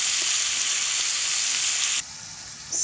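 Carrots and peppers frying in a pan for Chilean rice, giving a loud, even sizzle that dips sharply near the end, then rises again.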